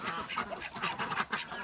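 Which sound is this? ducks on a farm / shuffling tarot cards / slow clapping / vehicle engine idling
ducks on a farm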